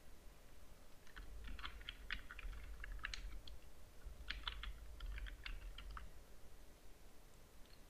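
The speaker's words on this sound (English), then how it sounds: "Type here your author name." Keys clatter on a computer keyboard while an author name is entered into a PDF in Adobe Acrobat Pro DC, in quick uneven bursts of close, light clicks over a low room hum, no voices.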